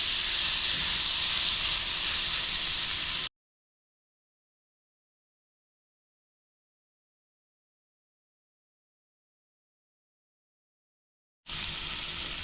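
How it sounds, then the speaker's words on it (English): A hogfish fillet sizzles in a hot pan, a loud close steady hiss that fills the first few seconds, cuts to silence, then returns near the end. "Got my pan pretty hot too. Put that hogfish right on there."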